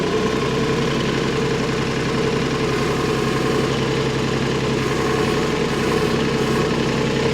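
Vehicle engine running steadily while hauling an oak firewood trailer, a loud, constant low rumble with a faint knocking texture and no clear rise in revs.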